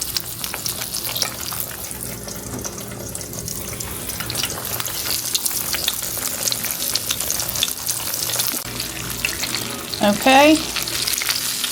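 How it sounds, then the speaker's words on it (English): Green tomato slices fry in hot lard with a steady crackling sizzle, joined by scraping and clinking near the end, and a voice speaks briefly. "I'll just put them in and fry them about 2 to 3 minutes on each side until they're golden brown."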